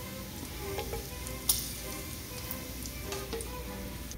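Sausage and bacon sizzle steadily in a pan, a dense even crackle with a few brief ticks and scrapes and no talking.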